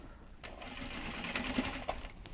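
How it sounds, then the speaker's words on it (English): A sewing machine stitches Japanese fabric for gyoza bags, giving off a quiet, fairly steady mechanical whir with a few small knocks, heard up close and alone. "we're just going to sew this now"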